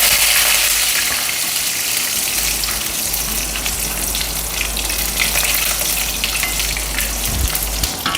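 Curry leaves hit hot oil with a loud, crackling burst of sizzle that settles into a steady frying hiss, close up, with a low rumble underneath and no talking.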